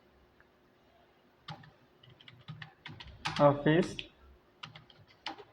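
Computer keyboard keys clack in irregular bursts while entries are made in Tally ERP-9, with someone speaking briefly over the typing.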